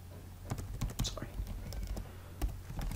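Code is typed on a computer keyboard in a string of close, quick key clicks, while someone speaks quietly over the tapping.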